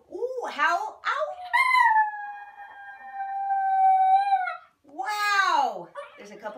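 A dog howls on cue during trick training, a long wavering tonal howl lasting about three seconds, close and loud, with a person's short commands before and after it.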